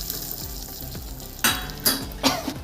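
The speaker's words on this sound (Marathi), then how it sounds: "हे छान असं तडतडलं, ही फोडणी द्यायची आपल्याला" Curry leaves and red chillies crackle and sizzle in hot oil for a coconut chutney tempering, a steady frying hiss broken by three sharp bursts of popping and spattering.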